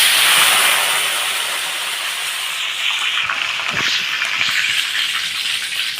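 Curry leaves hit hot oil in a pan and sizzle loudly and steadily, a continuous frying hiss with small crackles throughout, close by and alone.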